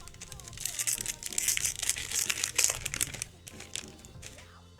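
Trading card packs torn and ripped open by hand in a card break, with close crinkling foil wrappers building in bursts and then easing off, while someone talks over it.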